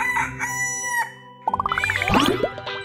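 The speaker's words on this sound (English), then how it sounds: "R is for rooster." A rooster crows in a high, rising call of stacked pulses lasting about a second, preceded by a bright tonal musical passage; there is no talking.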